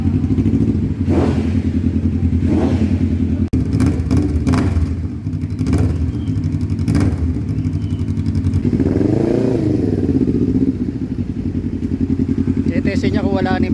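Kawasaki Z900 motorcycle idling loudly up close with a remapped ECU and resealed exhaust, a steady rumble with several short blips of the throttle and a sharp pop, while people talk nearby.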